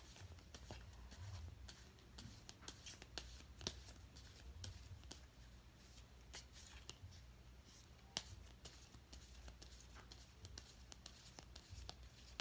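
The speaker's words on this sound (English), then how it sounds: "I'm gonna shuffle the other deck" A tarot card deck is shuffled close by in quiet crisp riffles and slaps, irregular taps and flutters repeating over a low background hum.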